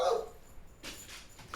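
A dog barks a few times at a distance from a neighborhood, faint and separated by brief pauses, with no one talking.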